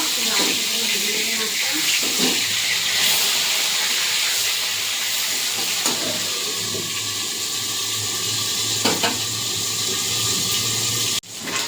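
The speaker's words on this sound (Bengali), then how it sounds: "মাছ ভাজা হয়ে গেছে, এটা করে তুলে নেবো।" Loud, continuous sizzling hiss of catla fish frying in hot oil, with occasional clinks of a utensil and an abrupt knock near the end.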